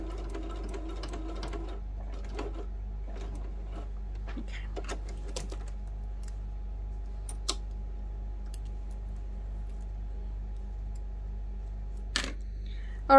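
A sewing machine stitches a lunch bag closed, giving a soft, steady mechanical whir over a low hum, with a few sharper clicks scattered through.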